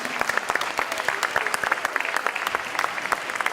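Audience applause fills the hall at an EMBA graduation ceremony, a dense, even patter of many hands clapping close by without pause.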